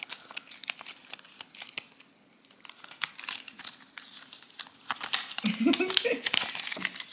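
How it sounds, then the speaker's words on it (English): Quick, crisp rustling and flicking of stiff paper cards being shuffled and handled up close, with a voice speaking over part of it. "We're gonna start by shuffling all of our prompt cards"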